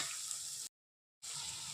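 Onion and green chilies frying in hot oil with cumin seeds, a steady close hiss of sizzling that cuts to silence for a moment, then resumes just as loud.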